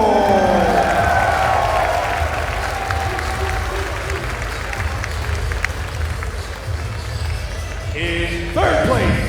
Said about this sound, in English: In 4th place, please cheer for Nemo